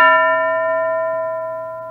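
A single bell struck once for a classroom, ringing with a bright metallic clang and a long, steady sustain of clear overtones that slowly fades, heard alone and close.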